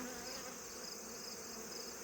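Honey bees drone inside a hive being condensed, with frames of drawn foundation nearby; a faint, even, unbroken buzzing hum with no talking.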